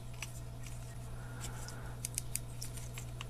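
Abu Garcia Revo MGXtreme 2 baitcasting reel drag, a faint, rapid run of tiny clicks over a low steady hum, close and quiet.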